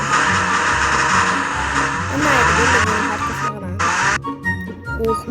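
Car driving in the Minecraft video game, with a loud continuous engine drone and tire squeal that stop briefly, then fragmented clatter and revving toward the end.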